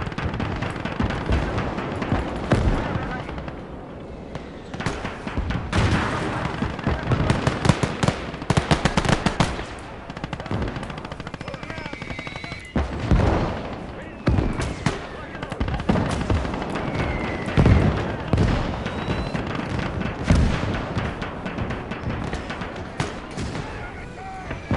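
Tank battle gunfire in the video game Gates of Hell: Liberation, with dense bursts of machine-gun fire, heavy cannon booms and explosions, near and far, continuing throughout as a voice speaks intermittently.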